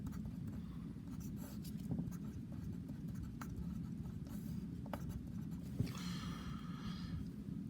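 Pen or marker scratches faintly while the quadratic formula is written out by hand during a math lesson, with short strokes over a steady background hum and a quick scribbled burst near the end.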